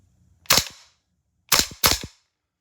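A custom PTS Masada .308 short gas blowback airsoft rifle fires three sharp semi-auto shots outdoors, one alone and then two in quick succession, each crisp crack followed by a brief mechanical rattle and no talking.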